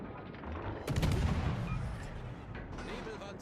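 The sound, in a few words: warship guns firing in World of Warships: Legends video game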